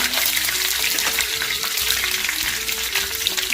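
Loud, steady sizzling of ginger frying in hot oil, close up, with a continuous hiss and light stirring.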